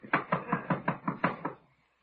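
Knuckles rap on a door in a quick, even run of about eight solid knocks, close and clear, then stop into silence.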